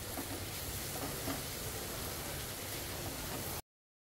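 Ginger, garlic and chili paste sautéing in a pan with onions, giving a steady, close sizzle of hissing broadband frying noise that runs evenly for about three and a half seconds, then cuts off.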